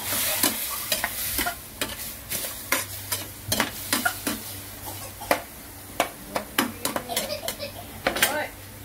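Chicken soup ingredients, sautéed with ginger and garlic, simmer in a covered pot on the stove, with a steady low bubbling and sizzle under a series of sharp utensil clicks and taps against the pot.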